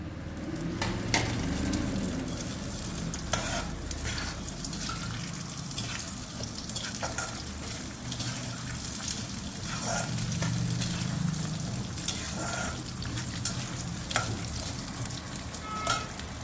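Urad dal and asafoetida roast in oil in a pan for chutney powder, a continuous close sizzle with steady stirring scrapes and occasional clinks of the utensil, with no talking.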